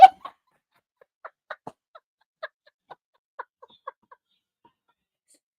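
A chicken gives a scattered series of short, soft clucks after one louder opening note, the calls spaced irregularly against near silence.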